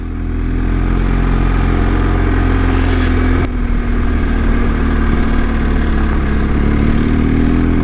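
A BMW GS motorcycle on the road in Ireland, a steady loud engine drone with heavy wind rush throughout, one brief shift in tone partway, no talk.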